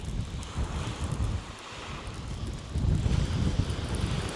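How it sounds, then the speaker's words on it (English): Wind buffeting a microphone on a seashore while plaice fishing at Seaford, a steady rushing roar with gusts that swell louder toward the end, no voices. "Let's try and get out that wind a bit."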